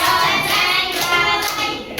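Students at a madrasa lesson clap in a brief patterned rhythm, a handful of crisp claps spaced apart, alongside group chanting voices.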